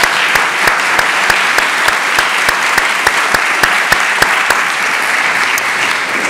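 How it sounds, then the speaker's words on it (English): Close, loud applause from a church gathering acknowledging sponsors, a steady dense patter with one near clapper striking sharp, evenly spaced claps throughout. "And let's give them a round of applause."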